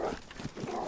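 Dog in the survival video game DayZ, a few short, loud growling barks or snarls close by in quick succession, alone without talk.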